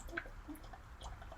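Air blown through a drinking straw into water makes faint, irregular bubbling pops and small gurgles, uneven in rhythm and heard alone at low volume.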